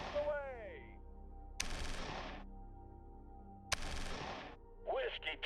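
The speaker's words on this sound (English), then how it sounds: "we do also have our Hueys over here that could probably do another air attack on the enemy here." Huey helicopter air attack in the Shadow Empire strategy game: two sharp bursts of gunfire, each a sudden loud onset that tails off over about a second, separated by a quiet gap, with brief synthetic chirping tones at the start and end.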